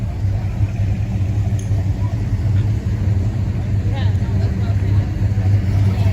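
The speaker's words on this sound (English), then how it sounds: "This is a beautiful 442. I like the sound of that." An Oldsmobile 442 idles with a lumpy cam at a car show, a steady loud low rumble close by throughout.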